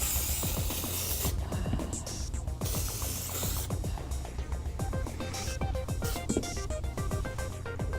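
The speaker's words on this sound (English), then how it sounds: "I find they go back in easier when you spray them down with a little powder." Short bursts of hissing powder spray into shoes repeat between mechanical clicks and rattles, fairly close, with a broad steady noise underneath.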